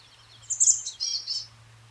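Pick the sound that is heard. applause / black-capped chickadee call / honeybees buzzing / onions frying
black-capped chickadee call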